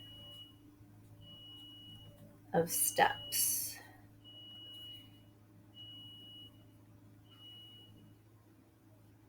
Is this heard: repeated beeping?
yes